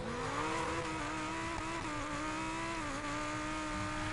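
A car engine in Need for Speed Payback hums steadily at a sustained high rev, a constant droning tone with slight pitch wobbles and no talking.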